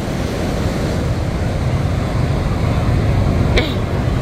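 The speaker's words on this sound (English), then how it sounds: "The ocean's coming near, my dear." Ocean surf rolling onto a beach near the Megler Bridge, a loud continuous wash of waves mixed with wind buffeting the microphone, with a brief faint high squeak near the end.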